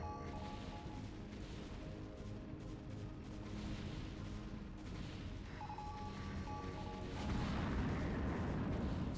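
A nuclear strike in the original StarCraft during a free-for-all match, heard as dense, rumbling game battle noise with repeated booms and weapon fire that swells into a heavier blast near the end.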